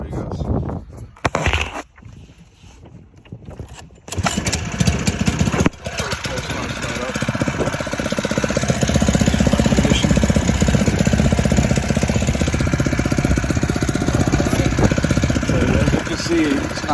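A small 4-stroke 5hp 82cc air-cooled petrol outboard motor is pulled over a few times, then catches and runs steadily, loud and close, with a constant droning engine note for the remaining stretch.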